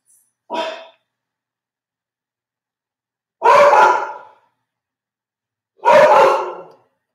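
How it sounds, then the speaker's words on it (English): A dog barks outside, three separate loud barks spaced a few seconds apart with silence between them. "Must be a dog out there."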